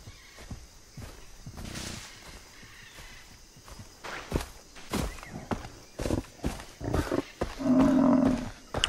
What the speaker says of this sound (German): Das hört sich an wie Löwe, ey.